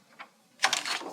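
A paper trimmer slices through card paper at close range: a small click, then a short, rough scraping stroke as the blade runs along the sheet.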